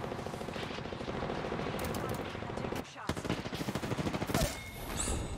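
Sustained automatic gunfire from Apex Legends, rapid rattling bursts that run almost without a break, pause briefly, then resume in a quicker stuttering volley with no voices over it.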